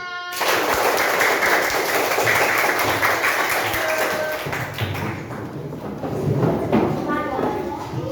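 Schoolchildren clap their hands together in a classroom, a dense burst of close, rapid claps lasting several seconds while children's voices chatter and call out over it.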